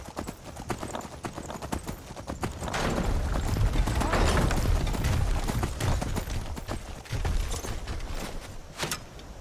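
Horse hooves clip-clop in the Skyrim video game, a brisk run of close, crisp hoofbeats over a rushing, noisy background that swells in the middle, with a faint neigh-like touch.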